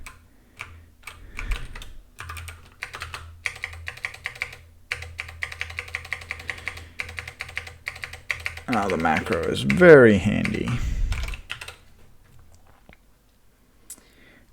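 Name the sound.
typing on a mechanical keyboard with Kailh Box switches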